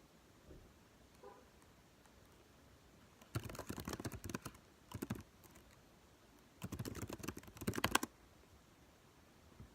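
A computer keyboard clatters in two short bursts of quick typing separated by a pause, quiet and close in an otherwise hushed room.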